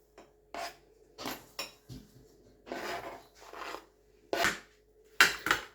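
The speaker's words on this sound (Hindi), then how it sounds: "इसको भी अच्छे से करते हैं मिक्स।" A spoon scrapes and clinks against a bowl in irregular bursts as a brinjal cutlet mixture with chopped green chillies and coriander is stirred together by hand, close and fairly loud with short pauses between strokes.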